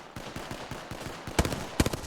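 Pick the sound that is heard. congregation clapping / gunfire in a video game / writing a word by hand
gunfire in a video game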